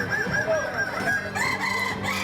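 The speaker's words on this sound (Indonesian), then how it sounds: "ayam balengek juga memiliki ciri khas pada suara berkokoknya." Ayam balengek roosters, a Solok, West Sumatra breed, crow in long, tiered calls at a crowing contest, several overlapping crows carrying loud and close with no talk.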